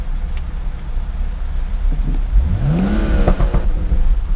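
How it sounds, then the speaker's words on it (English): A nearby car engine revs up, its pitch sweeping upward over a steady rumble of traffic, with no talking. "Oh, he's revving it."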